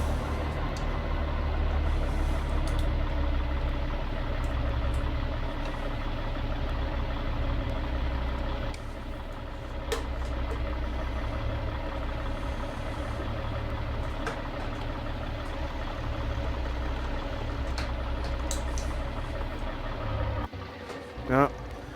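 Steady, loud low rumble of a heavy truck engine in American Truck Simulator on a logging run with a 9-speed transmission, droning continuously with a brief dip near the end and someone talking over it.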